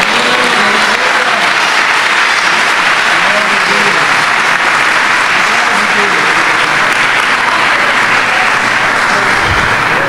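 A church audience claps for Jesus during a Portuguese-language sermon, loud continuous applause holding steady for about ten seconds with a low rumble near the end.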